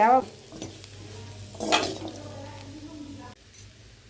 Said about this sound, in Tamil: குழம்பு மிளகாப்பொடி சேர்த்து நல்லா கலந்து விட்டுடலாம்.